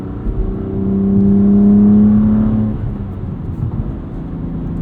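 A 2021 BMW M2 Competition with a six-speed manual revs up to redline, its engine note climbing into a loud rising drone, then dropping off into a lower cabin rumble.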